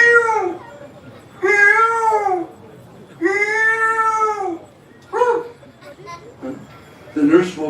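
A voice imitates peacocks crying at morning, giving three long drawn-out wailing calls in a row followed by a few shorter, quieter sounds, close and clear with no other noise.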